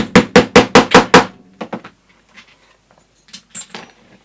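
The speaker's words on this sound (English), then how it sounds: "Hammer that in." Six quick, loud hammer blows in a steady rhythm, then a few lighter taps and scattered small metallic knocks at close range.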